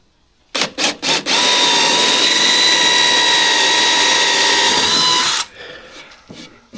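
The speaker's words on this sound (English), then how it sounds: "we'll just pop this in your drill" A power drill spins a bit while a DIY camera mount is built, preceded by a few short trigger bursts, then a steady whining run of about four seconds before it stops abruptly.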